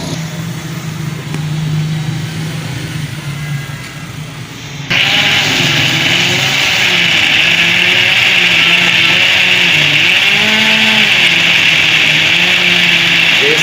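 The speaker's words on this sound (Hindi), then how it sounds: "3 पाव प्याज लिए हैं, वो हमने डाल लिए हैं ग्राइंडर जग में। हम इसको ग्राइंड करेंगे, इसका बनाएंगे पेस्ट।" An electric mixer-grinder jar blends onions into paste. A few seconds of quiet come first, then the motor starts abruptly and runs loud and steady with a whirring, churning whine to the end.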